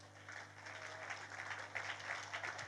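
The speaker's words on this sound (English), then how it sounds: "you stand up, you clap for yourself for 5 seconds" A seated audience rises and claps for themselves for a few seconds, a soft, distant patter of hands in a large room with a low hum underneath.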